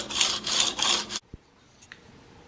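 Swacker 252 broadhead blade drawn over abrasive grits during sharpening: three close, loud rasping strokes in a steady rhythm, then a single faint tap and near quiet.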